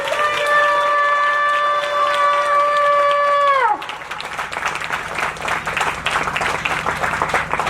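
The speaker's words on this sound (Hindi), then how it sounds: "उसकी जीवित हजूरी में ताली बजाओ जोर से।" A church congregation at an anniversary service claps loudly together in a dense wash of applause, following a sustained held musical tone that cuts off suddenly.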